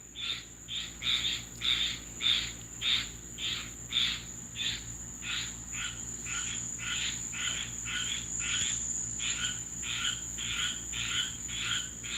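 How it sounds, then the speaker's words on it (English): A frog croaks in a steady, rhythmic series of pulsing calls at night, fairly near, over a constant hum of crickets and insects. "Shut up, frog"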